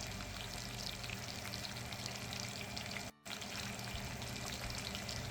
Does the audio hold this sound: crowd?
no